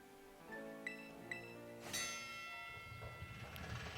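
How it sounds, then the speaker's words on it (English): A bell rung in Pokemon Violet, bright ringing tones that strike a few times and then one louder chime that fades out over a sustained musical backing, with no talk. "Let's ring the bell and let's go!"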